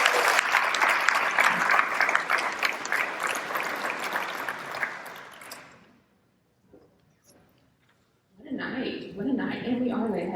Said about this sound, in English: a big round of applause for all of her work in making tonight